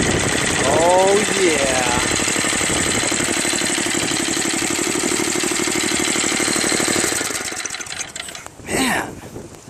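A Craftsman 522 snow blower's Tecumseh engine idles with a steady, buzzing mechanical drone that runs for several seconds. Someone speaks briefly over it, and the engine cuts off abruptly near the end.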